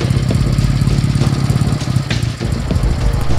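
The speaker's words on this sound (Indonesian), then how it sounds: "Pada saat itu kebetulan lewat seorang polisi naik sepeda motor." A police motorcycle rolls past with a steady, loud engine drone and low idling rumble that holds throughout, close and continuous, with no voices.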